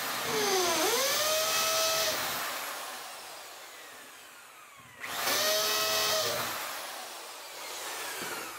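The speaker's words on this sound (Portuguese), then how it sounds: "E agora eu vou furar aqui também." Power drill boring holes into picture frames being assembled into a small decorative window, two loud bursts with a rising then falling whine, each about two seconds, separated by a quieter pause.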